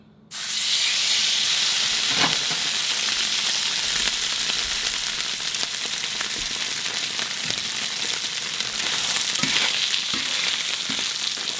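An A5 Wagyu ribeye sears in a hot pan, giving a loud, steady sizzle and hiss with a few soft clicks and bumps, with no voices over it.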